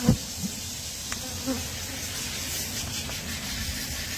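Honey bees hum and buzz around an opened hive, a steady close drone with a soft hiss and a few light knocks near the start.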